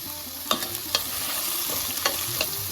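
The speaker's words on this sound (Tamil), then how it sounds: "இதோட வெங்காயம் நல்லா பொன்னிறமாக ஆற வரைக்கும் வதக்கணும்" Onions sautéing with green chilli, salt and curry leaves in a pan over medium-low heat. A steady low sizzle runs throughout, broken by a handful of brief scraping stirs of a spatula, close and quiet.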